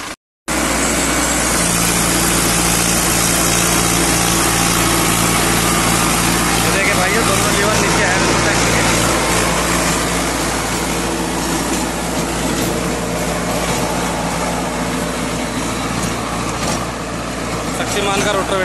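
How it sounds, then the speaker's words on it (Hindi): A loud, steady tractor engine drones continuously with a churning mechanical rumble, close by, running a Shaktiman rotavator, throughout with a rough, heavy low end. "अभी आपको दोनों लीवर डाल के ट्रैक्टर दिखाया जाएगा रोटर पे चलते हुए।"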